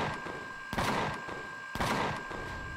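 Turrets fire at hostile drones in Empyrion Galactic Survival, a science-fiction survival game, in two loud, separate gunfire bursts about a second apart over a steady electronic background hum.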